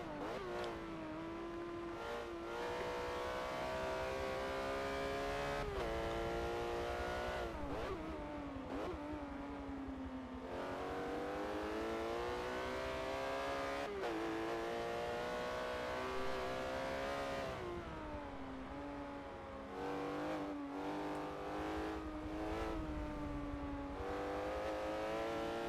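Porsche Cayman GT4 race cars lap Hockenheimring in qualifying, engines revving hard through the gears with rising and falling pitch, steady loud drone throughout and shifts every few seconds.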